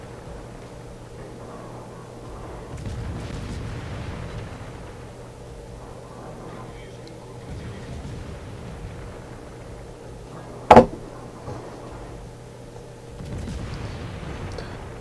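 Warship guns firing in the World of Warships naval battle game, a low steady rumble of distant gunfire with one sharp loud blast near the middle, then more rolling booms toward the end, with no talking.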